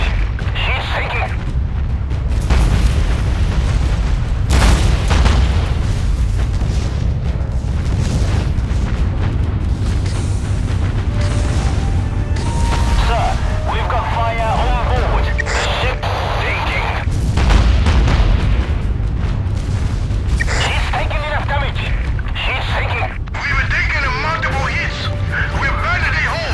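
Torpedo explosions rock a warship in a naval video game battle in the Java Sea, the player aboard a Prinz Eugen class heavy cruiser, with heavy rumbling booms, bursts and a dense low roar that continues throughout.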